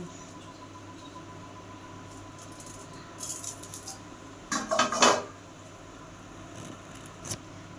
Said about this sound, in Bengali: আমি এটাকে একটা ঢাকনা দিয়ে দেবো এরকম ঢাকনা দিয়ে দেব